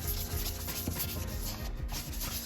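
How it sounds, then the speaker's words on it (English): Steady wet sanding rubs continuously across the front grille of a Mercedes-Benz R350 during a first-pass restoration, a soft, close, gritty scrubbing with no pauses. "this is first sanding, getting that bottom layer"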